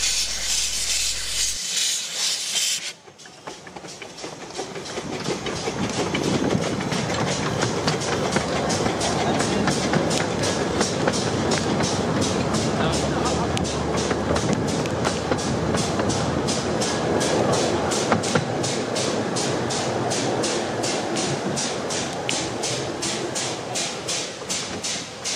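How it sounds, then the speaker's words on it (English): Kirklees locomotive Badger reverses along the narrow-gauge Ravenglass and Eskdale Railway on a wet gala day. A steady, close rumble with rhythmic clickety-clack and hiss runs continuously after a brief loud burst at the start. "Whilst the Kirklees locomotive Badger reverses down to doublehead the"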